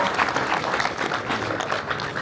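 An audience at a NAMM music industry talk applauds a classic song, producing a brief, steady patter of many hands clapping.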